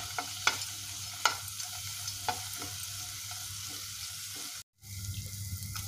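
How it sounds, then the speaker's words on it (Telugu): Cashews and almonds fry in a pan with a faint steady sizzle, broken by a few light scraping stirs and a brief dropout near the end. "జీడిపప్పు బాదం పప్పు కొద్దిగా ఫ్రై అయిన తర్వాత"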